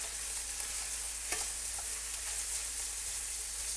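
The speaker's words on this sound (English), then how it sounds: "We're gonna throw in our shrimp, let them get some color." Shrimp and minced garlic frying in a frying pan or wok, a steady bright sizzle with a brief stirring scrape, close and continuous with no voices.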